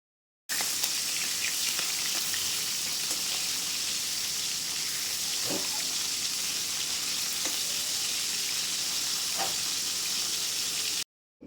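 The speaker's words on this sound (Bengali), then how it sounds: "এবারে ম্যারিনেশন করে রাখা চিংড়ি মাছগুলিকে একে একে কিন্তু দিয়ে ভেজে নেব।" Marinated prawns frying in hot mustard oil, a loud continuous close sizzle and hiss with occasional sharper spits, no voices.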